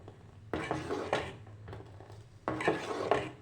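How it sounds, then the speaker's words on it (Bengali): A ladle scrapes and stirs rice pudding (payesh) in a small pot on a gas stove, several rasping strokes in bursts, close and clear. "এইভাবে অনবরত নাড়তে হবে।"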